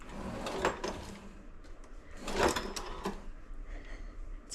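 A kitchen utensil drawer is worked open and shut, giving two rattling sliding bursts with clattering tools inside, fairly close and moderately loud, with quieter shuffling between them.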